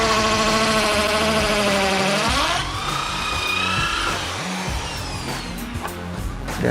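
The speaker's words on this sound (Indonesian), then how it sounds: "Kita bor di atas, bor di bawah," A power drill bores holes while fitting brace fixings for a residential water tank foundation, a loud continuous whine whose pitch shifts and steps down midway, then steady grinding with no talk.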